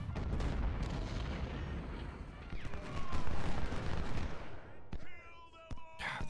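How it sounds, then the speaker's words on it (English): An infantry brigade fires a rifle volley in the Civil War strategy game Ultimate General, a dense crackle of overlapping musket shots and booms that thins out into scattered reports and battlefield clatter. "Fire a volley and destroy those guys."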